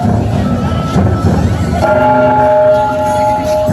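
A bell rings out on stage during a school play, amid a loud, dense background rumble, its sustained tones ringing on through the latter half.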